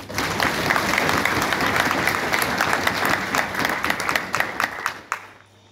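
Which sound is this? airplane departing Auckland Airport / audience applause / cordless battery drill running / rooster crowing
audience applause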